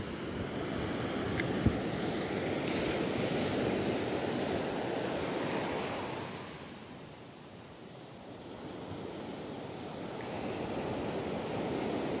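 Ocean surf rolls and washes steadily, a broad roar of breaking waves that eases briefly midway before building again, with some wind across the microphone.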